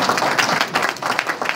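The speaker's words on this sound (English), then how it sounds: "That's an applause line." Audience applause at a congressional campaign kickoff speech, a brief burst of dense clapping from a small crowd, fairly close and lively.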